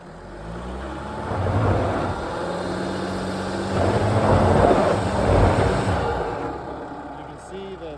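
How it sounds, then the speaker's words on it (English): A Mercedes Sprinter van in rear-wheel drive straining on loose gravel, its engine droning and rising in pitch as it labors, with crunching and rumble underneath and a voice speaking over it. "You can see that the rear-wheel drive cannot pull this vehicle due to the limited traction on the gravel"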